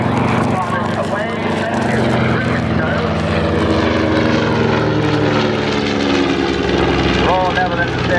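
A Dutch B-25 Mitchell twin-propeller bomber flies past at the Dunsfold Wings & Wheels 2015 airshow, its loud, throbbing piston engines droning steadily throughout and shifting in pitch as it passes close by.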